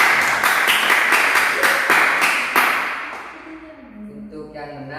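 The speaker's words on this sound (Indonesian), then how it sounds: "Tepuk tangan kepada." Classroom applause for a winning team in a quiz game, a burst of rapid clapping from a small group that fades out after a few seconds as a voice begins speaking.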